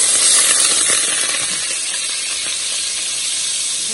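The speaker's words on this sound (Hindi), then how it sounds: "हमने ऑयल डाला है और इसमें डाला है हमने बटर" Butter melting in hot oil in a pan while butter chicken is being cooked gives a loud, steady, close sizzle and hiss that continues without a break.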